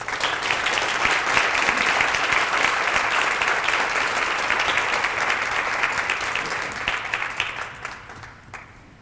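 Sustained audience applause for the honorees of Families of Autism Coming Together at a human rights awards ceremony, a dense steady clapping from a large crowd that holds strong for most of the stretch before tapering off near the end.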